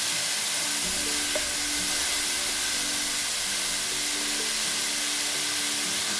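Cut vegetables fry in a pan with a little water, giving a continuous, even sizzle and hiss that stays close and steady with no talking.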